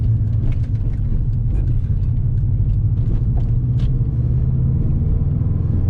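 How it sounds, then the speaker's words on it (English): Old Subaru WRX on the road, a steady low engine and road rumble filling the cabin, with faint scattered ticks and light rattles from the car's interior riding over it, no voices. "There's all kinds of creaks and rattles and noises coming from parts of the car that shouldn't be making noise."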